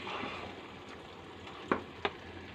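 Boiled dal frying and being stirred in a pan for dhaba-style egg tarka: a continuous soft sizzle with two sharp spatter pops near the end.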